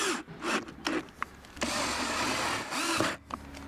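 Screws being driven into the cell block of a Lowrance fishfinder mount on a West Marine kayak, with several short grinding bursts, a longer sustained whirring scrape, and small clicks in between, heard close up.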